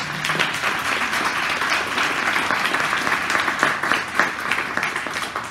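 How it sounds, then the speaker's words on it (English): Audience applause for cast members at a Forest 404 event, a steady wash of many hands clapping that holds evenly for several seconds, loud and close, with no talk over it. "Can we just give them a little round of applause, please?"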